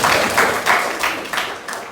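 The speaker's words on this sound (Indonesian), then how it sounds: "terima kasih untuk kalian tepuk tangan" Classroom students applauding at the end of a lesson, a loose patter of hand claps with a few louder surges, fairly close and steady for a couple of seconds.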